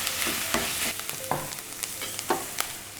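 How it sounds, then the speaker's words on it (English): Scrambled tofu with fresh ginger stirred in a frying pan: a low, steady sizzle broken by quick scraping strokes of a utensil across the pan at an uneven pace, close up and without speech. "Just going to give that a little stir."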